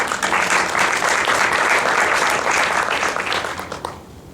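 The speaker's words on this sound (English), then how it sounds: "So please give yourselves a round of applause" Audience at an annual meeting applauding steadily, a dense even patter of claps that holds for several seconds and then tapers off into quiet.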